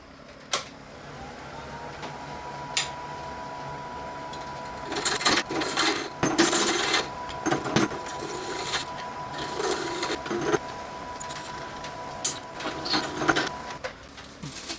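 A lathe roughs a resin casting to round, a faint steady motor whine with a thin pitched tone under irregular clattering bursts and scraping chatter as the tool bites intermittently, close and without talk.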